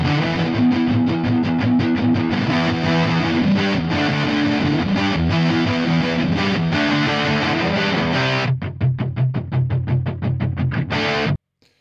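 A distorted punk rock guitar plays through a cabinet impulse response loaded in Ableton Live 11's Hybrid Reverb, loud and dense with chugging chords, then switches to tight staccato stabs before stopping abruptly.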